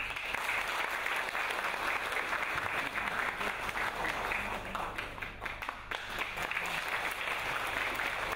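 Warm, sustained applause from a concert audience welcoming pianist Sun Tiansheng to a music-and-art piano recital, dense steady clapping filling the hall without pause.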